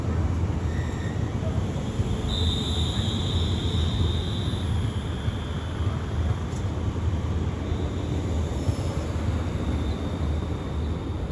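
Steady broadband rumble of a train with an ex-TransPennine Express class 350 unit passing through Milton Keynes Central on the West Coast Main Line, a continuous wash of wheel and motor noise at moderate distance with a faint whine.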